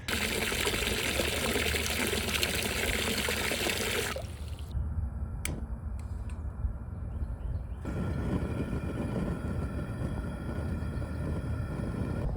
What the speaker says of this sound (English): getting this pot full of water and getting the heat turned on